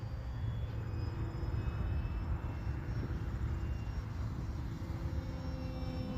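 A full-scale airplane drones steadily overhead at a distance, a faint, even engine hum with no breaks over about six seconds.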